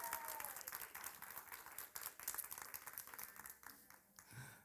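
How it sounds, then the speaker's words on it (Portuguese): A church audience claps and applauds to welcome a female guest onto a Christian talk show, a dense burst of many hands that continues and tapers off, with faint voices at the end. "Quero convidar aqui já a nossa convidada, palmas para a Roberta."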